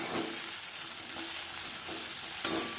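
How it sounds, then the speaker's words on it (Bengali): Okra (bhindi) fries in a pan, a steady soft sizzle with a few scraping stirs of the spatula, close and alone. "ভাজাটা মোটামুটি হয়ে এসছে, এর থেকে বেশি ভাজা যাবে না।"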